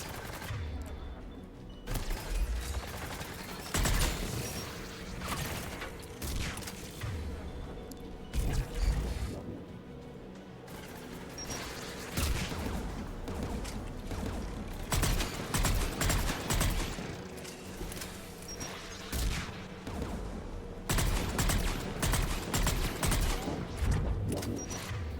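Anti-aircraft guns in Mass Effect pound out a sustained, loud barrage of rapid heavy shots layered with mechanical clanking, continuing with dense bursts throughout, with no talk.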